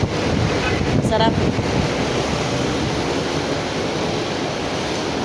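Strong wind blowing by the sea in Malia City, a loud continuous buffeting roar against the microphone with a steady surf-like wash, and a brief spoken word near the start.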